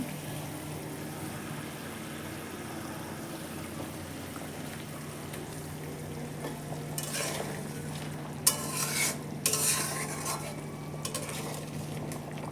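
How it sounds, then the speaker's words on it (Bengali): Hilsa fish pieces are turned through a mustard spice paste in a pan, with a soft, low simmer and a few louder scrapes and knocks of a utensil toward the end. "নেড়ে চেড়ে মাছটাকে এগুলোর সাথে মশলার সাথে মিক্স করে নিলাম।"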